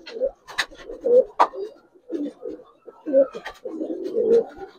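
Giribaz pigeons cooing in repeated soft, throaty bursts close by, with a few sharper calls and wing or body rustles between them.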